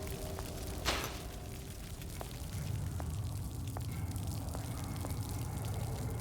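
Water drips steadily in BioShock Infinite: Burial at Sea, a handful of faint, evenly spaced plinks over a low ambient hum, with no one speaking.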